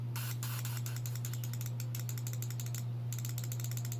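Rapid mechanical clicking from a pulsed Mazda RX-7 fuel injector during cleaning, crisp ticks in quick bursts with a short pause, over a steady low electrical hum. No talking.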